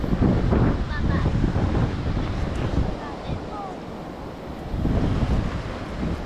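Ocean waves wash onto a beach at a campsite, surging loudly, easing off, then building again, with strong wind buffeting the microphone throughout.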